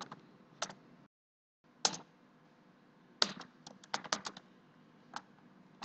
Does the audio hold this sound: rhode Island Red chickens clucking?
no